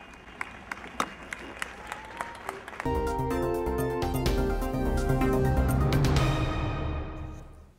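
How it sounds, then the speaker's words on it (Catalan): Teachers and students at a school applaud after a silent tribute; a few scattered claps first, then news background music swells in and carries the rest, with clapping faint beneath it. "Els 5 minuts de silenci han acabat amb aplaudiments dels professors i alumnes."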